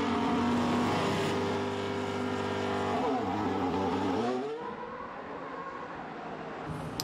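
Formula 1 race cars at the 2022 Belgian Grand Prix scream past at high revs in a loud, layered engine wail that fades away and leaves a quieter distant drone.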